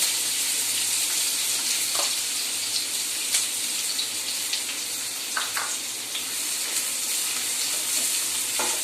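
Onions frying in hot oil in a pan, with a constant soft sizzle, a few sharper pops and light stirring clinks, fairly quiet and close, without speech.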